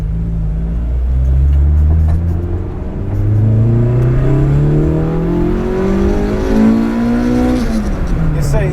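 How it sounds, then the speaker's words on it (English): A Toyota AE86 fitted with a 4.7 differential revs hard, its engine note climbing in loud, rising sweeps, dipping and pulling up again, with a brief drop near the end, heard close up. "You just got to rev it out."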